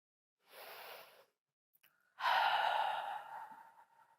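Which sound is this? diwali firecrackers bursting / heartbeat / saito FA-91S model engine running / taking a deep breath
taking a deep breath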